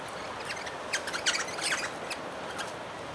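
Wild birds chirping at a feeder by a lake at Loch Sport give a few short, faint, high tweets scattered over quiet outdoor background noise.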